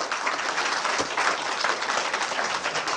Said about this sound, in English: if we could have a massive hand for Robert Arthur Menard, Freeman on the Land, please